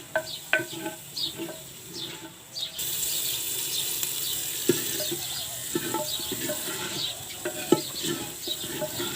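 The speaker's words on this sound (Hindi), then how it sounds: "आलूओं को मसाले में भूनना है।" Potatoes and tomatoes are fried in spice masala, starting with scattered close stirring clinks and clatter, then a steady broad sizzle sets in beneath continued scraping and tapping.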